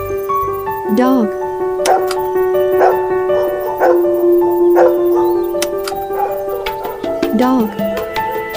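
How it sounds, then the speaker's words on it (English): A domestic dog barks repeatedly at a steady pace, roughly one bark per second, fairly close and clear over a constant background hum. "Dog."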